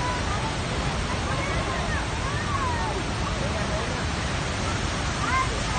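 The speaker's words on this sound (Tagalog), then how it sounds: "At ito naman yung unang falls." Rushing waterfall at Seven Falls in Lake Sebu, South Cotabato: a steady, loud broadband roar of falling water fills the whole stretch, with faint voices of people nearby mixed into the noise.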